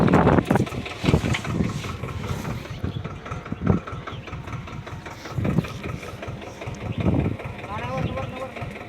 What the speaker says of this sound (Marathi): पुढे घ्या ट्रॅक्टर.